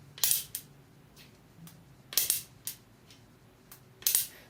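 Shogi pieces snapped down onto a wooden shogi board, sharp hard clicks in separated groups, several crisp wooden taps with short decays over a quiet background.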